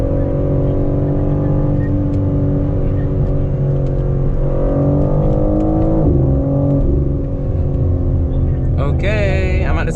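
2022 BMW M4 Competition on a night drive, its engine droning and rising in pitch as it accelerates, with a brief higher rev burst near the end and people talking over it.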